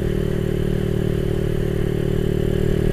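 Suzuki Satria FU 200cc motorcycle engine fitted with a DBS full-system exhaust, idling with a steady, close, continuous low rumble and a faint clattery whir throughout, no voices over it.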